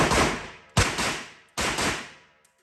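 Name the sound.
gunshots from a Shadow Systems pistol with thread-on compensator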